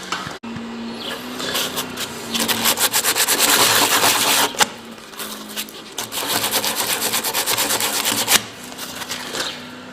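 Hand sanding a surface with a pad after machine sanding, rough rhythmic rubbing strokes in bursts, close and fairly loud, separated by brief pauses.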